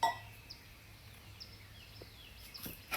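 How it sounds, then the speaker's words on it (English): Birds singing at sunrise, a few faint chirps and whistled notes scattered over a quiet outdoor background, brief and distant. "I hope the bird soundtrack is okay."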